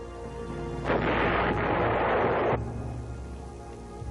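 A 155mm howitzer fires at the Khe Sanh base during the 1968 Vietnam War, giving a single heavy, sustained boom that rumbles for nearly two seconds over a steady background.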